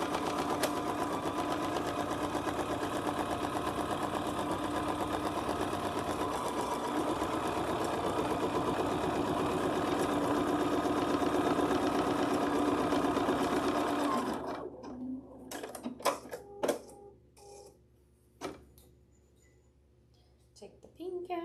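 An embroidery machine stitching metallic silver thread runs in a fast, steady mechanical whir for about fourteen seconds, then stops, leaving scattered clicks and handling noises.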